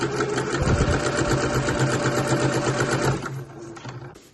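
A sewing machine stitching a bag lining, including a short back stitch, runs at a steady rapid hum close by for about three seconds, then slows and stops, with no talking.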